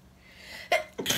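A single close, loud sneeze, with a short sharp intake followed by an explosive burst, then a second forceful sneeze burst right after.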